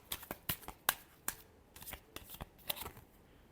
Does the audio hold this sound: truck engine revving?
no